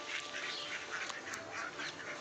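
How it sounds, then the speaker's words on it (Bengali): Ducks kept alongside pigeons at a home loft quack repeatedly in a busy, overlapping chorus, fairly close and steady throughout. "দেখুন এখানে হাঁসগুলো সব রয়েছে"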